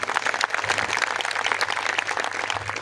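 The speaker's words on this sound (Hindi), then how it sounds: "एक बार जोरदार तालियां सुनील जी के लिए बजा दीजिए" A comedy show audience claps continuously, a dense, moderately loud patter of applause with no talking.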